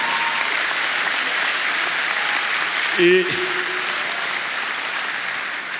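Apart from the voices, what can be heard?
applause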